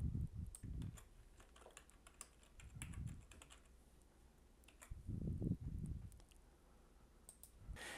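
Typing on a computer keyboard to enter a search term, light clicking keystrokes in short irregular runs, close and quiet, with soft low thumps between bursts and no talking.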